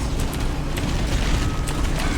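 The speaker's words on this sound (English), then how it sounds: "Guess that guy died, so that guy exploded" A video game explosion bursts out in a dense, loud wash of rumbling noise, sustained through the moment with a few sharp crackling pops on top.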